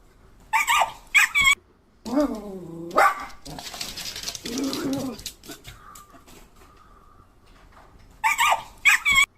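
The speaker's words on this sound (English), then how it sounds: "Is that a puppy and a cat?" A puppy gives several short, high yips and barks in bursts at the start and again near the end, with whimpering sounds and a person's voice in between.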